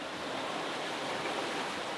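Ocean waves in the North Atlantic around a sailboat make a steady, broad wash of water noise with no distinct breaks, soft and continuous throughout.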